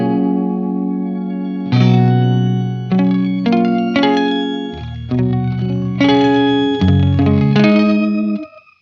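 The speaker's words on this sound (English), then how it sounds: "Now I'm going to start to turn that depth control up, which introduces more repeats." Electric guitar notes and chords run through an Old Blood Noise Endeavors Excess V2 pedal with the depth turned up, smeared by chorus and multiple echo repeats that trail off, loud and close with no talking.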